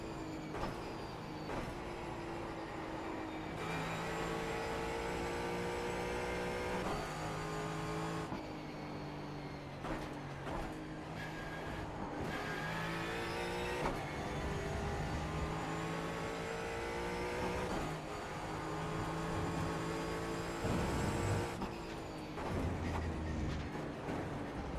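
Ford Mustang GT4 race car engine in the iRacing sim at Road Atlanta, loud and continuous throughout, with the revs climbing and dropping through gear changes and brief lifts, no talk.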